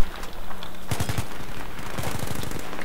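Battlefield 3 gunfire: quick bursts of automatic weapon fire, one tight burst near the start and then a longer rattling volley, loud and close over game ambience.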